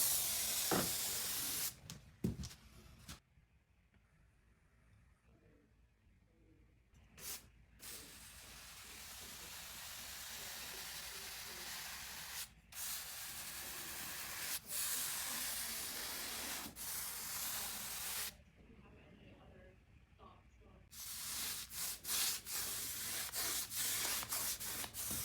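A paint roller rolls paint onto an interior wall beside a door frame and above a baseboard, making long, broad rubbing swishes that stop and start in strokes, with a few sharp clicks between passes.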